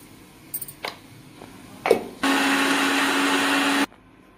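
A kitchen mixer grinder whirs steadily for about a second and a half as it grinds ginger, garlic and coriander into a paste, after a few brief clicks and knocks. The motor is loud and even and then stops abruptly.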